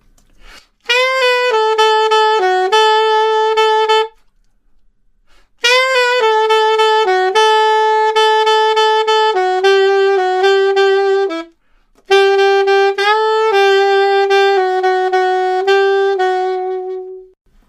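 A bright, harmonically rich melody, played over a backing track in three phrases separated by brief silences, loud and close, with sustained and repeated notes.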